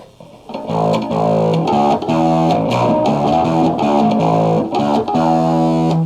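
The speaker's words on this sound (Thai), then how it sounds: "ผมจะเหยียบโอดายแล้วนะ" A gritty bass guitar played through an overdrive pedal plays a busy riff of repeated notes, loud and distorted with a fuzzy edge, no talking.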